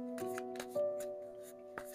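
Tarot cards are shuffled and drawn in a few quick, soft riffling bursts, close and quiet, over a faint steady background hum.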